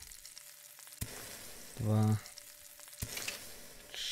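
Food cooking over a campfire in the Above Snakes video game, a short game sizzle with a brief tonal cooking cue in the middle, while a man counts aloud over it.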